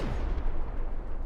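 Gunfire in the video game MENACE while shooting at an enemy: a dense, rumbling burst of weapon fire with a heavy low boom at the start, sustained loud for about a second.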